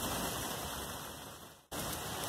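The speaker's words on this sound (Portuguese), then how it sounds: "tá chovendo muito, é perigoso" Heavy rain pours down in a steady, loud, dense hiss, unbroken except for a momentary dropout near the end.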